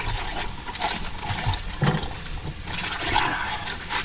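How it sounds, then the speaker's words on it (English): Running water splashes over Savoy cabbage leaves as they are washed by hand, a steady rushing stream with irregular rustling and splattering bursts, close and fairly loud. "Right, I'll wash my leaves"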